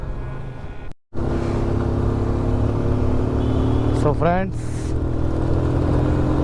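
Motorcycle on a mountain road during a Badrinath and Kedarnath trip, the engine running loud and close with steady wind roar, while someone talks over it.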